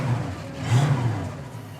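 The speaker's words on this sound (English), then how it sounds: "Good running little 289 two-barrel" A 1967 Ford Fairlane's 289 two-barrel V8 idling steadily on a cold morning, a low, even rumble held close for a brief moment.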